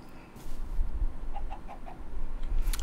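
A chicken in a blocky building game clucks in a quick run of four or five short, evenly spaced notes, fairly faint against soft background ambience with a few muffled thumps.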